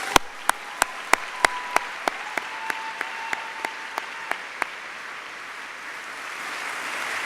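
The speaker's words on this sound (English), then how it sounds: "Give yourselves a round of applause." A graduation ceremony audience applauds a speaker, a steady wash of clapping with sharp, evenly spaced claps from one nearby pair of hands that fade out after a few seconds while the crowd continues.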